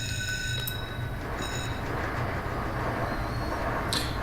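A train rumbles along steadily in the Run8 rail simulator, with a low continuous roll and a few brief high metallic squeals and tones.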